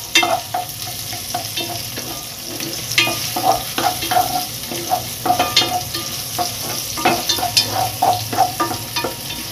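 Pork rib pieces sizzle in a hot pan under a range exhaust, with repeated scraping stir strokes and clinks of a utensil against the metal coming in irregular bursts over a steady frying hiss; no one speaks.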